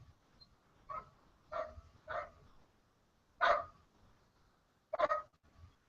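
A dog barks indoors: five separate sharp barks, fairly close and spaced about a second apart with quiet gaps, alone without talk.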